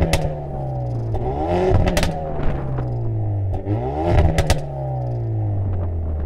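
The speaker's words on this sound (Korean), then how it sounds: "첫 번째 차량은 벨로스터 N입니다. 이 차량은 배기 같은 경우는 순정 배기 차량이고" A manual Hyundai Veloster N with its 2.0-litre single-turbo engine and stock exhaust, revved loud and close in two rising-and-falling sweeps over a steady idle rumble, each rev ending with a crackle.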